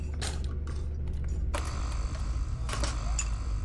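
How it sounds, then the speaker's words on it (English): Mechanical clanks and clatters from the kitchen in a Five Nights at Freddy's game, a few sharp bangs over a steady low hum, heard alone without talk. "that's just the sound of the kitchen"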